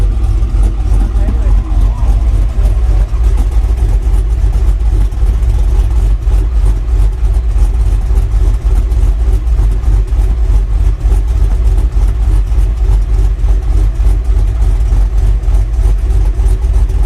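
A 6.0 V8 swapped into a Chevrolet Silverado idles loudly near the exhaust, the cam giving a choppy, lumpy pulse that throbs steadily throughout, with occasional faint talk.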